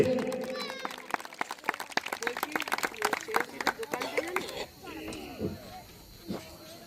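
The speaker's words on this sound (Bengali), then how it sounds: "ওনার জন্য একটা জোরে হাততালি" An audience claps together at a Bijoya gathering of a human rights social council, a dense burst of hand claps lasting several seconds before fading, with voices and chatter heard over and after it.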